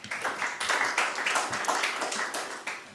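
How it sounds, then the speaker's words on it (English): A small group at a workshop claps in a round of applause, the individual claps sounding close and fairly sparse, with a quick, uneven rhythm. "I hope you can hear the round of applause here"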